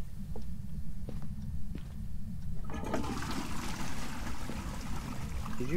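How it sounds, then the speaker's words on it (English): A toilet flushes in the ghost-hunting game Phasmophobia: low rumbling water builds, then a louder rushing, gurgling surge takes over midway and continues steadily, close and unaccompanied by voices. "I flushed the toilet."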